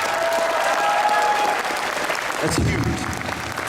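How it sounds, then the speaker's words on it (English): An audience at an anime convention panel breaks into loud applause, dense clapping filling the room, with a voice briefly talking over it before the clapping thins toward the end. "we need to give him a round of applause"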